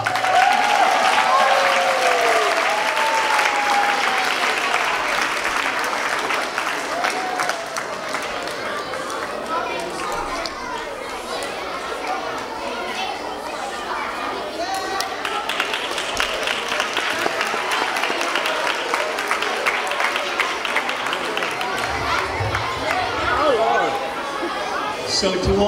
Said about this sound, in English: And another applause.